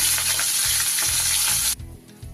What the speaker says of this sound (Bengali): সব মাছগুলো কিন্তু আমার লাল লাল করে ভাজা হয়ে গেছে।